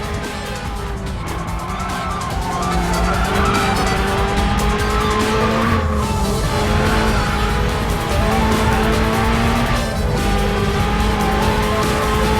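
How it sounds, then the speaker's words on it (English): A car drifts with the handbrake in the Racing Master mobile racing game. A loud, sustained engine drone is layered with continuous tyre squeal throughout, and no one speaks. "Nice drift."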